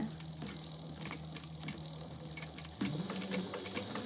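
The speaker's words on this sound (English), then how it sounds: "Let's backstitch a little bit so I can see that." A sewing machine backstitching a sling bag, with faint, quick rhythmic clicking and a low running hum, soft and nearby.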